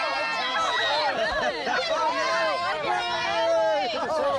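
Dense crowd chatter at the Birdsville races in the outback, many overlapping voices talking and laughing close by in a lively, continuous babble.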